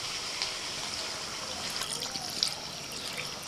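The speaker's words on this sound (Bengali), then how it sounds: "এবার মটনের মধ্যে দিয়ে দিচ্ছি একটুখানি হালকা গরম জল।" Warm water is poured into mutton cooking in a pot, making a soft, steady trickle with faint splashes over a quiet background, close but low in level.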